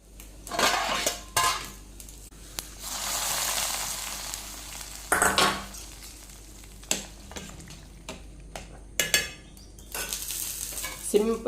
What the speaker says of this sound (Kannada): ಇವಾಗ ಪದಾರ್ಥಕ್ಕೆ ಒಗ್ಗರಣೆಯನ್ನು ಇಡ್ತೇನೆ